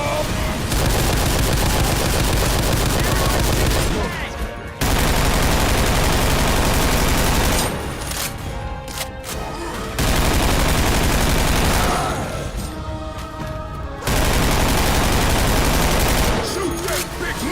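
Heavy, continuous automatic gunfire in the zombie co-op shooter Left 4 Dead 2, loud sustained volleys broken by short pauses, with voices shouting over the shooting.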